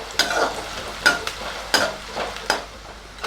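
Ingredients for Hyderabadi chicken biryani being fried and stirred in a pan until golden, with close, repeated scraping strokes of a spoon about every second over a steady sizzle.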